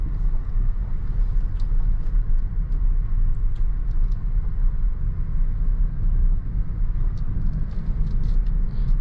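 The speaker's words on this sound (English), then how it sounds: "we will get this Range Rover out on the road" A 2018 Range Rover is driven on the road, heard from inside the cabin as a steady, loud low rumble of engine and tyres with faint higher ticks above it.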